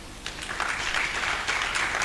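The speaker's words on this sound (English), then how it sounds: "please, I need you to clap for yourself" An audience of public school teachers claps in a hall, steady dense applause from many hands filling the whole moment without pause.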